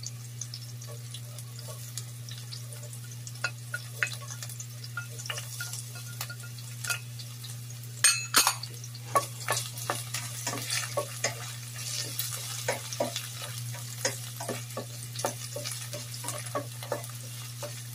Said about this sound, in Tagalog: I-mix na natin yung ating garlic.